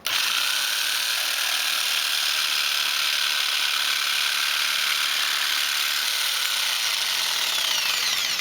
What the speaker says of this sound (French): je vais partir la scie et je vais couper